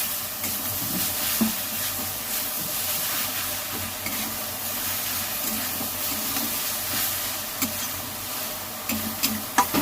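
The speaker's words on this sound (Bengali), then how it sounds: "এবার দিয়ে দেব শাকটা, দিয়ে ভালো করে নেড়ে চেড়ে লাগিয়ে নেব।" Red amaranth greens with dried chilli and onion sizzle and hiss in a hot pan while being stirred, with occasional scraping knocks from the spatula, continuous and fairly close.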